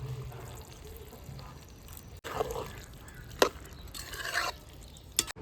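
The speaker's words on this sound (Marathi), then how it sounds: "गरम करून ठेवलेलं पाणी आपण ते आता टाकून घेणार आहोत" Hot water pours into a paneer tikka masala gravy cooking on a village clay chulha stove, in short splashy bursts with drips and trickles between them, close by and moderately loud.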